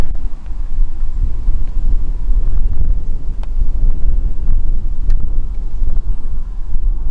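Wind blowing outdoors at an air rifle range, a loud continuous rumbling buffet across the microphone with no talking.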